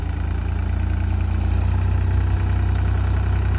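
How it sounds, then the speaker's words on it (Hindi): A tractor engine runs steadily near Manali, a loud, close, deep throbbing drone with an even mechanical pulse and no talking over it. "ट्रैक्टर को चला रहे हैं"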